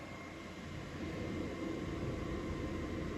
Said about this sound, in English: And there's a jet noise, so that happens during the day.